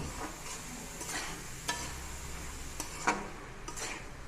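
A spoon stirs khutariya masar fish curry in a pan, producing intermittent scraping strokes over a faint, steady sizzle, with no talking.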